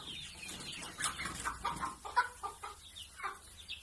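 A group of Thai native and Pradu chicks, one month and six days old, cluck and peep close by in a steady run of short, overlapping calls.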